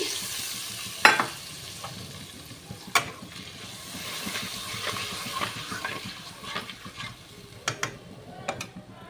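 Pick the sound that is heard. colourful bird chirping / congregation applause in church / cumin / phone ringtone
cumin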